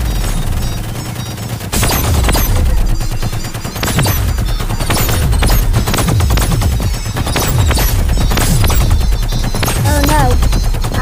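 Gunshots in the VR Invaders video game, dense bursts of rapid firing repeating steadily and loudly through the whole stretch, mixed with game music and effects.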